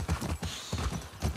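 Horse hooves clip-clop on hard ground in the video game The Last of Us Part II, a quick run of close, moderately loud steps with no talking.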